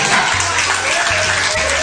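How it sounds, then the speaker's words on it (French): An audience claps loudly and continuously in a close, dense burst, with a low electrical hum running underneath. "Je vous demande d'applaudir notre DGA"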